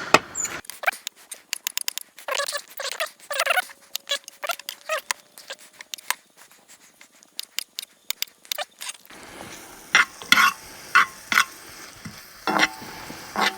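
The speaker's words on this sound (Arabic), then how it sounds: "بعد ما حطينا البصل والثوم في زيت زيتونة" Onions and garlic frying in olive oil with mushrooms, first a run of crackling pops and sharp spattering, then a denser, steady sizzle with scraping stirring strokes, heard up close.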